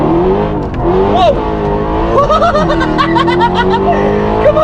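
A powerful Mercedes C63 AMG engine roars and revs with rising and falling pitch, tires squealing as it slides, close and loud, with people's voices and laughter mixed in.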